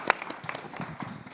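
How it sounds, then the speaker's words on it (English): Light, brief clapping from a conference audience after a panel presentation, a sharp clap up front followed by thin, scattered claps that fade out, moderately quiet and a little distant. "Clapping."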